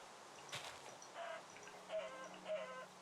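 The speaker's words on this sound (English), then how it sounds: "Chicken." Soft clucks from a Minecraft chicken, several faint short calls spread over a few seconds with light game ticks in between, no talk.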